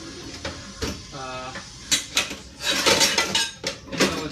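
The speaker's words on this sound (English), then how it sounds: "Let's go with the saute pan" A sauté pan being taken out and handled in a kitchen, with scattered metallic clinks, knocks and clatters of cookware, some louder bursts of rattling near the end.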